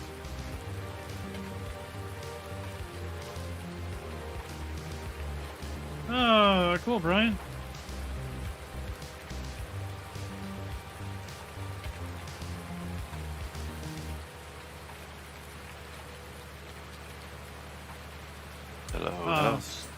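Steady rain falls across a farm map in Farming Simulator 19, a continuous even hiss under brief bits of talk and a few other game sounds.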